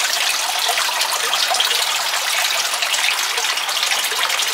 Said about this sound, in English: Got a little while till the warm water starts to come out